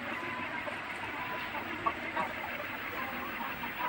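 Tiger-breed chickens on a poultry farm cluck softly, fairly distant and quiet, with a few short calls rising above a steady background hum.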